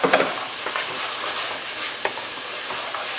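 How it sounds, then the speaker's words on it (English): Onions and chopped carrots stir-frying in a pan, a constant close sizzle with occasional stirring scrapes and a few louder pops at the start. "I'm just going to quickly stir fry these up a little bit just so they get a little bit soft and translucent."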